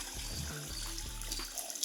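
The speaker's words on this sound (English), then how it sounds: "You can let it drain out, let it gravity flow" Dirty water gravity-draining from the open waste tank of a Karcher BD 50/50 floor scrubber, a steady close trickling and gurgling flow with no talk.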